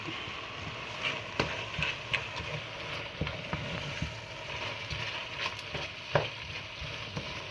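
Vegetable sauce hisses and sizzles steadily in a hot pan during cooking of biteku teku, with a few soft clinks and stirring sounds over the constant frying noise, close up and moderately quiet.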